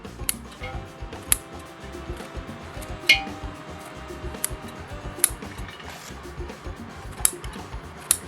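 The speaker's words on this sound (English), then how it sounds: "And then we also take some sponges and we cut them up into chunks" Dollar Tree sponges being cut into chunks, likely with scissors, produce quiet, scattered sharp snips and clicks at an uneven pace, with no voices.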